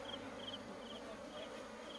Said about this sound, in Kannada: ಇನ್ನು ಸ್ವಲ್ಪ ಜೇನುನೊಣ ಬಾಕಿ ಆಗಿದೆ